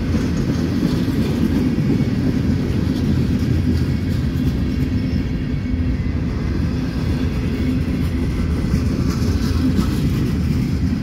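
A continuous low rumble and clatter of a long northbound CSX mixed manifest freight train with a mid-train locomotive rolling past nearby, steady and loud without letup.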